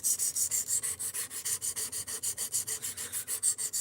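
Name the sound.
sharpening a MagnaCut steel knife edge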